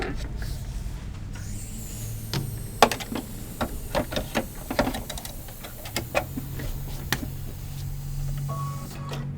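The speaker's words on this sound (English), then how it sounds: "back to the machine, and it will do the decorative stitch again for the next one" Sewing machine running a decorative stitch while quilting a Christmas tree block with puffy foam and cork, a steady mechanical hum with irregular ticking and clacking needle beats, close and moderately loud, no talking.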